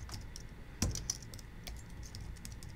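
Keys clack on a computer keyboard in a short run of quick, uneven taps, close and moderately quiet over a faint room hum, with no talking.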